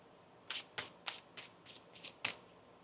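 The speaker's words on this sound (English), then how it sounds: "One more shuffle." Tarot cards being shuffled by hand, seven quick crisp riffling bursts in a steady rhythm, close and clear, with no talking.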